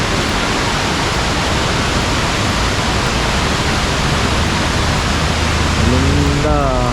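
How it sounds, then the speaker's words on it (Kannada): Ravana Falls in Ella, Sri Lanka, roars as a steady, loud broadband rush of falling water, with a faint voice emerging near the end. "famous Ravana water falls"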